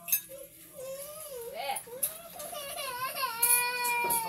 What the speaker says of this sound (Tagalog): May umiiyak na po